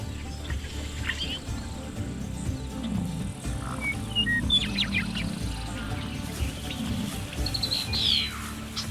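Breeding songbirds in spring on the Yellowstone plains, short high chirps and trills scattered over a steady buzz of flies and a low rumbling background.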